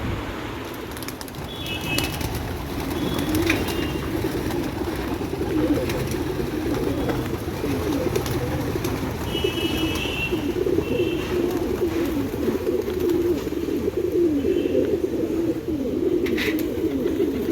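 Pigeons on a rooftop coo in low, overlapping rolls, close and continuous, with a few thin chirps above them and the odd brief flutter.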